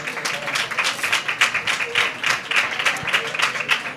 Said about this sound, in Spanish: un aplauso para Concha también.